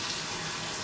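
A hose runs water into a 3 ft African cichlid aquarium tank, a steady close rushing splash that fills the whole brief moment.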